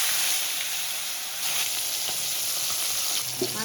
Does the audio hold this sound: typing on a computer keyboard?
no